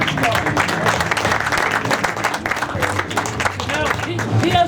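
An audience at a Citroën Traction Avant seminar applauds in a dense, steady patter of clapping that carries through the whole stretch, with a speaking voice over it.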